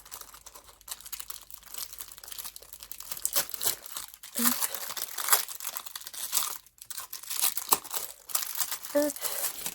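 A packet of Temu scrapbooking paper is torn open, giving close, busy plastic crinkling and tearing in uneven bursts with a few brief pauses.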